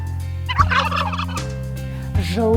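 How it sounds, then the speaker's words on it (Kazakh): A turkey gobbles in two loud, close, rattling bursts, the second short and sharp, over a steady humming backdrop. "Күркетауық."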